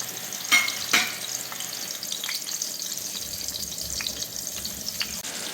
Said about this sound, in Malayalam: പാൻ ചൂടാകുമ്പോൾ ഈ കരട്ടി വെച്ചേക്കുന്ന കരിമീൻ സിമ്മിലിട്ട് ഒത്തിരി മൂക്കാതെ വറുത്തെടുക്കും